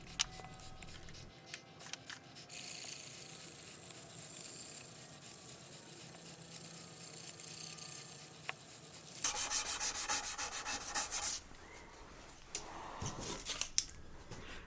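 Close-up sandpaper rubs side to side over a wooden violin fingerboard in steady scraping strokes, growing louder and rougher in a burst near the end.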